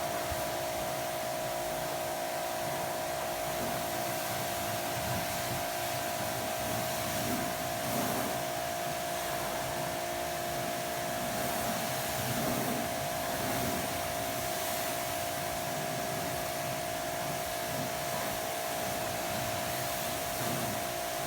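A 2000 psi electric pressure washer rinses a car, producing a steady, loud, continuous hiss and motor drone that runs unbroken throughout with no talk.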